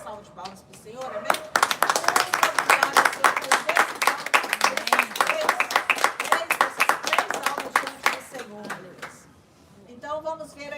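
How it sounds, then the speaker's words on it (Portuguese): A church congregation at a baptism service claps for the Lord: dense, fast, continuous handclapping that starts abruptly, holds for about seven seconds, then dies away before a voice resumes speaking. "Vamos dar salva de palmas para o Senhor"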